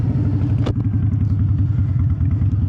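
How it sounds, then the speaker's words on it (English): A Harley-Davidson twin cam motorcycle engine rumbles nearby with a steady, low, loping pulse throughout, with a single sharp knock partway through. "See what I mean with that twin cam sound?"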